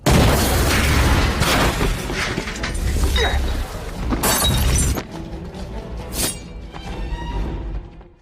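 Molotov cocktails hurled at a house burst with loud glass shattering and heavy booming crashes, several impacts in quick succession, close and harsh, fading into scattered smaller breaks.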